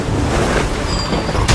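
Strong, forceful water rushes loudly and continuously at an illegal coal mine site in Narayankudi, Raniganj, a broad roaring wash with gusty noise and no talk.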